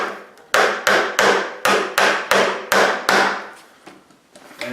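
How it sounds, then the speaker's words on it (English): A hammer drives a strap down onto a 2x4 during electrical wiring work: about eight loud, sharp strikes in a steady rhythm, each ringing briefly, then a few lighter taps, close up and with no talking. "Hammer it down."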